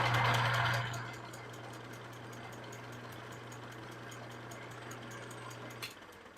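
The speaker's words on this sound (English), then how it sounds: "Then we'll spin the lathe, and I'll just come in with my marker and just let it draw a nice line around it." A metal lathe spins a part for a custom antique-car air cleaner, giving a steady, low motor hum that is louder at the start and stops abruptly near the end.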